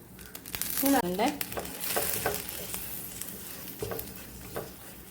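Chili powder masala roasting with melted jaggery in a pan for Onam koottukari, a soft sizzle with scraping stirs and a few clinks, fairly close and moderately loud throughout.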